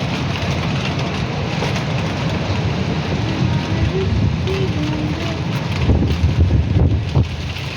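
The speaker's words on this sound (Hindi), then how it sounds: "बड़ी तेज़ बारिश है यार, बड़ी तेज़ बारिश है, बहुत तेज़ बारिश है यार" Heavy, cold rain pours down in Lahore's Karim Park, a dense steady hiss with gusty wind noise throughout and a few faint tonal sounds in the background.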